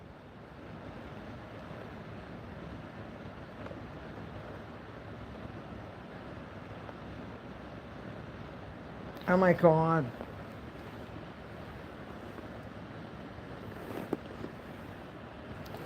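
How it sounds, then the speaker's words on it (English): Steady broadband wind roar buffets the microphone throughout, with a brief exclaiming voice breaking in midway and a short knock near the end. "A windy day. Incredibly high winds about an hour earlier."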